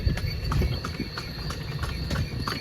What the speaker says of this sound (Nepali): घोडामा तबडक तबडक तबडक तबडक